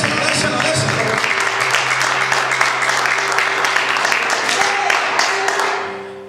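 Congregation applauding the Lord in church during a sermon: dense, sustained clapping for about six seconds under a voice, then fading out quickly at the end.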